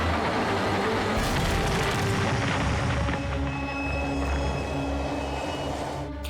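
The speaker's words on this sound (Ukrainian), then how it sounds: "Потяг професора Гізмо ледве тримається" A train rumbles steadily along the rails with continuous loud clattering and metallic screeching, no voices present.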